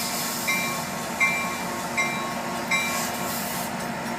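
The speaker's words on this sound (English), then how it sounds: "There's the train." A train runs by over a steady broad rumble, with four short bright metallic clicks spaced about three-quarters of a second apart, steady and fairly close, with no one talking.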